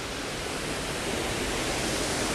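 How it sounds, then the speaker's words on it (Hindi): Jogini waterfall near Manali in Himachal Pradesh, with snow-covered mountains around, gives a steady, loud, close roar of falling water that never lets up, with no voices over it. "ये है मेरे पीछे जोगनी वाटरफॉल और यहाँ से जा रहा है पानी नीचे को"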